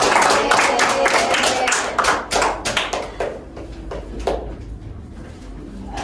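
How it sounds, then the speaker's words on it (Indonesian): A classroom group claps together in a burst of applause that fades into scattered claps and dies out, with a hint of voices underneath. "Beri tepuk tangan buat kita semua."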